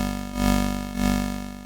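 Two repeated bright, crunchy 8-bit lead synth notes with the Monarch filter resonance turned up, each swelling and fading, buzzy and close, with no talking.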